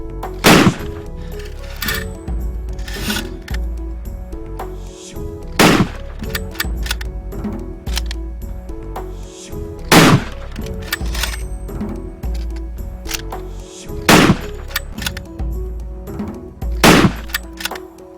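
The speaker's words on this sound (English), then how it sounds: "This required swift, accurate, high-caliber rifle handling, combined with sprinting between targets up to 30 meters away" Loud, sharp high-caliber rifle shots fired during a safari guide shooting test, about six cracks spaced a few seconds apart over a steady outdoor background, with no talking.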